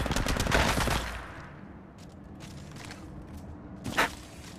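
Gunfire in Apex Legends Mobile during a ranked match, a loud rapid burst of automatic shots at the start, then scattered quieter shots and a final sharp crack near the end.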